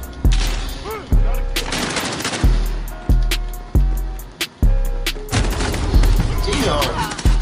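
Loud machine gun fire from Call of Duty MW plays in a steady series of sharp bursts and booming shots, each followed by a decaying tail, while a voice talks over the shooting.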